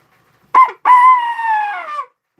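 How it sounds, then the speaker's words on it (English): A handmade coyote hunting call is blown up close: a short sharp yip, then a long, loud, wavering howl-like note that slowly falls in pitch before stopping, with nothing else audible. "That's a coyote call."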